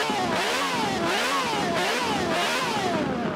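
Engine-swapped Lamborghini Huracan carrying a Ferrari engine in Forza Horizon 4 revs loudly and continuously, its pitch climbing and falling in repeated sweeps with no voices over it.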